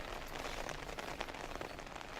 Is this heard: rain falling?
yes